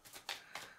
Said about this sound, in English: I am shuffling the Wild Unknown Animal Spirit deck.